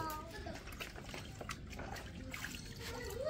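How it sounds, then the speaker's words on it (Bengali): Freshly pulled radishes and their leafy greens being washed in water in a village setting, with a soft close trickling and splashing that runs steadily throughout. "এই যে সকালবেলা ধইলে পাতা আর মূলা উঠে নিয়েছি, এটা এখন ধুমু"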